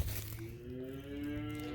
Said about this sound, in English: people showing cows, which is really fun. The cows love it too.